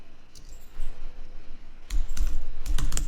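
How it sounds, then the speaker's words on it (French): Computer keyboard typing in short bursts of clicking keys, quieter at first and then faster and louder clattering near the end, with no voices. "il suffit de taper dans Google"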